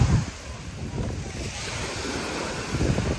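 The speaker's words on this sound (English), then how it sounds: "We're on the beach, we've got a wee spot here." Surf washes onto the shore at Palaiokastritsa Beach, Corfu, Greece, in a continuous roar, with gusting wind buffeting the microphone throughout.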